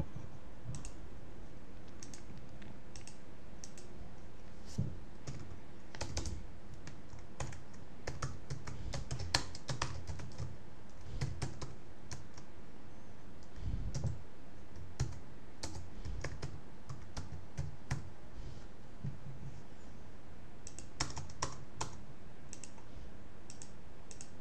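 Steady typing on a computer keyboard: quick irregular key clicks run throughout, close and clear, with brief pauses between bursts and no voices.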